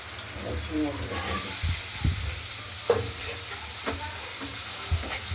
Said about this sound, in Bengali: আমরা আলুগুলোকে ভেজে নিচ্ছি ফোড়ন দেওয়ার পরে